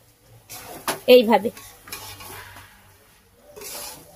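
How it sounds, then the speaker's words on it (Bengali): Rice and dal being stirred and fried with spices in a pan, a few short scraping stirs and a brief sizzle close by, with quiet gaps between. "তো এবার চাল আর ডালটা ভালো করে মশলার সঙ্গে আমি কিছুক্ষণ কষিয়ে নেব।"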